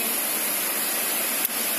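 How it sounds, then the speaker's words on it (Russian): The Gorbaty waterfall on a hike route gives a steady, loud roar of rushing water that fills the whole short stretch without a break, with no voices over it. "Это водопад"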